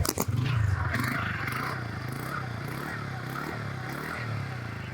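A TVS Ntorq 125 scooter's exhaust gives a gruff, bassy idle and rev, with a pulsing throbbing beat that stays loud and close throughout.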